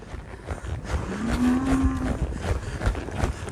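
Cattle in a cutting pen, with one clear low moo rising and holding for about a second amid rustling and movement noise.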